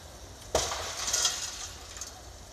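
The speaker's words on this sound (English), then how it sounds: "Broke the glass." Glass shatters on a burning garbage truck outdoors in snow, a sharp crack followed by a spray of tinkling fragments and lingering crackle over a low fire rumble.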